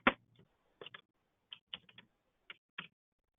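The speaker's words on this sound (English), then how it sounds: "I can go ahead and type that in" Computer keyboard keys being typed in short, irregular clusters of crisp, close taps separated by brief pauses, in a quiet room with no talking.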